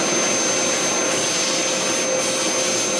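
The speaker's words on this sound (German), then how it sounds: "Ich habe jetzt mal auch direkt den Staubsauger mit hier dran gestellt" A vacuum cleaner runs steadily and loudly beside wood sanding for a heart-shaped wooden pendant, a constant broadband whoosh with a thin high whine, close and unbroken with no talk.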